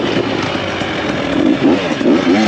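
A 2024 KTM 300xc-w two-stroke dirt bike engine revs loudly nearby, its pitch rising and falling in quick repeated blips over a steady buzzing drone.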